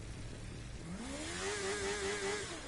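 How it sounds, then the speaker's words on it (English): A motorbike engine in The Crew 2 racing game revs upward and holds a steady high whine, moderately loud and alone with no talk. "Someone hit a motorbike and it's very loud."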